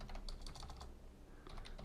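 A computer keyboard clacks as someone types JavaScript code, with quick irregular keystrokes in two short bursts separated by a brief pause, close and clear.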